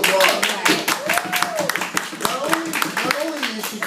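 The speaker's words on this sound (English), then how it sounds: "give this woman a round of applause" A live audience at Mister Tramps claps for a woman in a round of applause, a dense patter of hand claps running throughout, mixed with voices and cheering.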